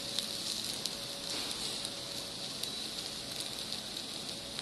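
Ginger and garlic sizzling with scrambled egg in a pan, a soft continuous hiss with scattered light pops and crackles, steady and fairly quiet with no voices.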